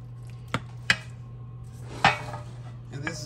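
A spoon clinks and scrapes against a dish while a cheese sauce casserole mixture of chicken, rice and vegetables is stirred, a few sharp separate knocks over a low hum.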